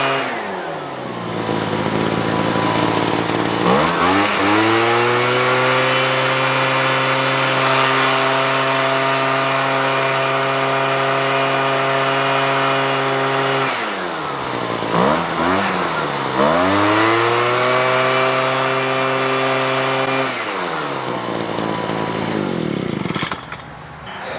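A Wild Badger 43cc backpack leaf blower roars steadily up close, its engine note dropping and rising again midway through as it revs back up, running loud and alone throughout.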